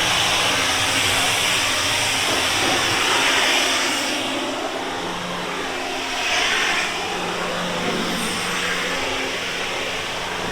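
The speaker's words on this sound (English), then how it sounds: "Not sure if you guys can hear me over the pressure washer" A pressure washer runs loud and continuous nearby while cleaning a 1969 Loadstar dump truck, a steady broad hiss and motor drone with slight swells as the spray shifts.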